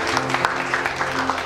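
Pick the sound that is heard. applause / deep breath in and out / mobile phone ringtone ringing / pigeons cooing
applause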